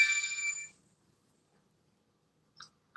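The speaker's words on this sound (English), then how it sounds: "Yes, I have a phone call. Let me answer this phone call real quick." A phone ringtone for an incoming call chimes brightly for about half a second, then cuts off, followed by silence and a couple of short faint electronic blips.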